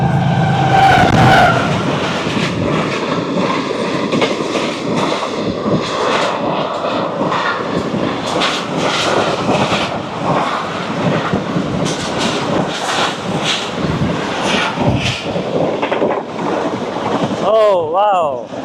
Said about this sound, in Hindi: डाउन साइड पे आ रही है 18 डाउन मिल्लत एक्सप्रेस